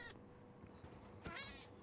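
A cat meows twice in Minecraft, near an iron farm, with a short call at the start and a longer, clearer meow after a pause, heard over a steady low game background.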